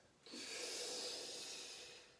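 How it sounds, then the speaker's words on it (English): A deep inhalation drawn into the chest during a morning movement breathing exercise, one long, close, steady airy intake lasting nearly two seconds with no talking. "Breathing in to this top part of your shoulder blades and just underneath your collarbones"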